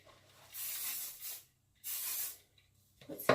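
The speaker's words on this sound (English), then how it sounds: "we will hairspray" Hairspray hissing out in two sustained bursts of about a second each over freshly braided hair, close and fairly loud, with brief handling noise at the end.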